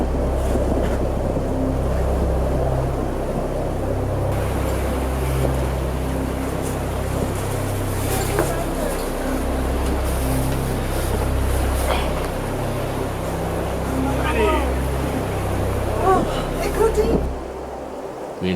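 A motorboat tender pounds through rough water in 40-knot gusting wind near the Aleutians, with a continuous loud engine drone, splashing and wind roar, and voices faintly under it.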